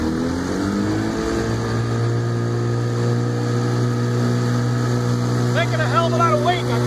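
A 1957 Elgin 7.5hp outboard motor on a 15-foot boat drones steadily at full throttle, its pitch climbing at first and then holding, with a brief chirpy burst near the end.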